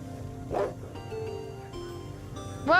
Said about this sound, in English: Did you hear the way it barked?